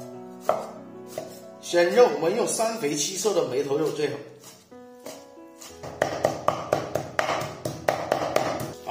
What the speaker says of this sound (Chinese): 先把猪肉给清洗干净，洗净后先把它猪皮给切掉， 再剁碎